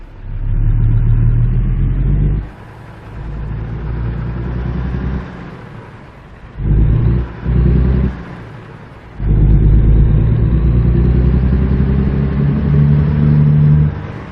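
A heavy truck engine in American Truck Simulator pulls away, a deep steady low rumble that drops off, surges back in short pulses, then settles into a strong sustained drone.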